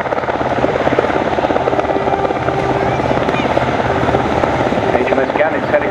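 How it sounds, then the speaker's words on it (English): A Royal Navy Wildcat helicopter flies a solo air show display, its rotor beating loud and continuous, with crowd and commentary noise underneath. "displaying the Royal Navy's newest frontline helicopter, the Wildcat, as a solo aircraft"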